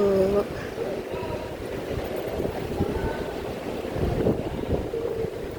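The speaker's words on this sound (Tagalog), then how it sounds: "Medyo mahangin dito." Steady gusts of wind buffet the microphone in a low, constant rumble outside Manila Airport, with outdoor ambience underneath throughout.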